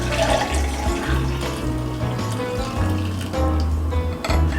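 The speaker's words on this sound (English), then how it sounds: "Pour it into our cup." Celery juice pours steadily into a cup, a continuous watery splashing and trickling close by, with a few small clinks.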